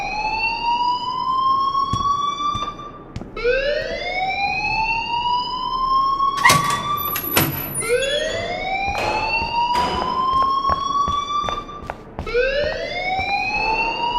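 An alarm blares in the video game Life Is Strange, a loud rising siren-like wail repeating in steady sweeps about every three seconds, with sharp clicks and clatter between cycles.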